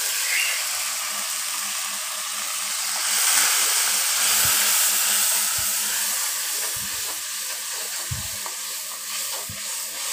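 Spice paste of cumin, coriander, chili and turmeric powders with a little water frying in a pan for a fish curry, a steady hissing sizzle with occasional soft low knocks from stirring, heard without talk.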